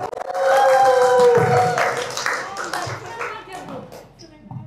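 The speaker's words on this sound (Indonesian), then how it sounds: "Tepuk tangan dong untuk para remaja" Audience at a talk show on youth drug prevention claps for the teenagers, a steady burst of handclaps with some cheering that fades over a few seconds, mixed with voices.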